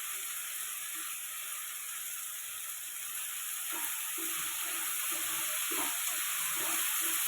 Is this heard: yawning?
no